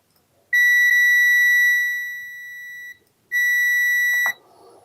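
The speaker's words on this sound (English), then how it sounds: "And my meter beeps." A multimeter continuity beep while testing the fuse of a ZX81 power supply: a loud, steady electronic tone lasting about two seconds, cutting out, then sounding again for about a second, ending with a small click.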